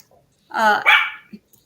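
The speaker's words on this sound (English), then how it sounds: "Let me just relieve this dog." A dog gives a short burst of two close, loud barks, preceded and followed by near silence.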